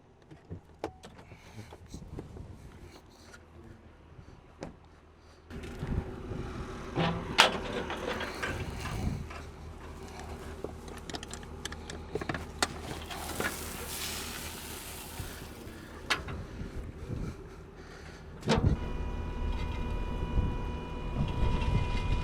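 Hydraulic cylinder on a Texas Pride dump trailer lifting a loaded bed at a ranch: a steady whining hydraulic hum that grows and shifts in tone, with creaks and clunks of the bed and load, moderately close.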